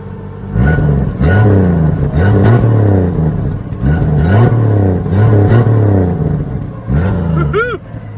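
A 1966 Chevy II Nova with its 230ci engine, loud and close, revving repeatedly in rising and falling surges with some mechanical clatter, each burst of throttle dropping back between pulls.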